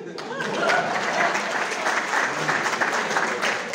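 An audience at a stand-up comedy show claps steadily, a dense, loud wash of applause throughout with faint voices underneath.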